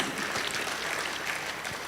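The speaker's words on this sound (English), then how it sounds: "Please, a round of applause, please." An audience at a podcast anniversary and compendium launch event gives a faint, steady round of applause, even clapping texture throughout with no voices on top.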